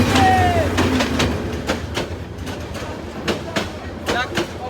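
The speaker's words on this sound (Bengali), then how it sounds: "আরে ট্রেন আইছে" A train pulls into a Bangladeshi station on the Sylhet to Cox's Bazar route, with regular clattering wheel beats, a passing horn-like tone and rumbling growing then easing, while people talk nearby.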